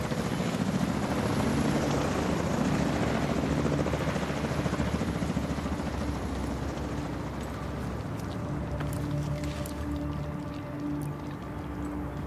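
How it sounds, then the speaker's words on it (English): Helicopter in The Division 2 flying over the Potomac, a loud steady rotor thump and engine drone throughout, holding strong and easing slightly toward the end. "Brenner, Recon 4 has a visual on an unknown helo headed east over the Potomac?"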